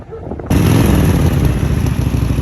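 A motorcycle engine starts abruptly and keeps running loud and close, a dense rumbling roar without pause.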